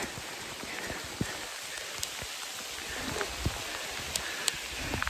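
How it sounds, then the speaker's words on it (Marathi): Heavy rain on a trek to Mudagad fort near Kolhapur, a continuous hiss with scattered sharper drops and taps striking nearby surfaces, no voices. "एवढा मोठा पाऊस आला"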